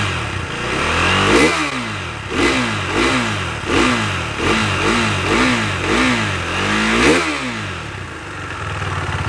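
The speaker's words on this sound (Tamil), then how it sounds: "எல்லாத்துக்கும் பிடித்தமான ஒரு எக்ஸாஸ்ட் சவுண்டு. ஆன் பண்ணுறேன்." A KTM RC390 BS6 limited-edition single-cylinder motorcycle revs repeatedly through its exhaust, a string of loud, close blips rising and falling in rhythm with no voices over it.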